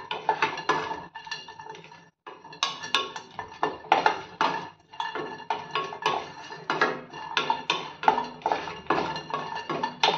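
Coconut being lightly roasted in a metal pan while a spoon stirs it, producing continuous scraping and clinking of utensil on pan in a quick, uneven rhythm, close and clear, with no talk.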